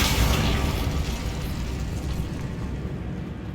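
An Incendio fire spell cast in Hogwarts Legacy, a sustained roaring whoosh of flame with a dense rumbling burst that stays loud and steady, slowly easing over several seconds with no talking.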